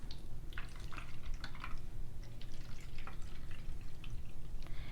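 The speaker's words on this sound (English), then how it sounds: "And now I have to water it. This is rainwater." Rainwater poured into an orchid container, a steady close liquid splashing and trickling with irregular bright drips over a low, constant background rumble; no talking.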